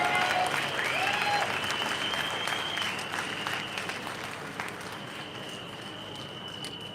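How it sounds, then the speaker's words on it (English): A rally crowd applauding, dense sustained clapping that starts strong and gradually thins, with faint whistles and cheers mixed in. "Please give a big round of applause for Pensioners for Independence"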